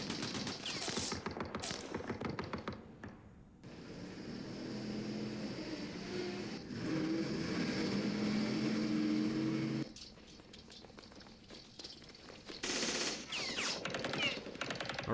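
Gunfire in a Middle East battle in Campaign Series: Middle East, with rattling bursts of fire at the start and again near the end around a steady vehicle drone in between.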